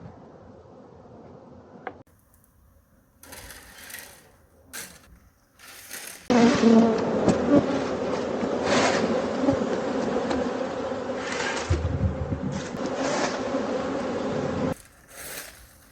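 A dense, close buzzing of honey bees during a honey harvest swells in and out, loud and continuous through the middle, with quieter gaps of insect hum at the edges.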